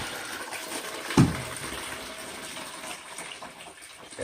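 Water drains from an old-style toilet tank into a bucket in a steady, soft, hissing gush, with one sharp splash or knock early on. The pour continues evenly and fairly quietly throughout.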